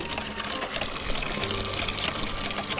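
A newly installed village water hand pump being worked, giving a steady gushing flow of water with faint repeated mechanical clanks, close and continuous throughout.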